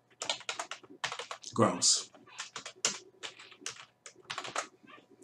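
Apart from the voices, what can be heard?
typing on a computer keyboard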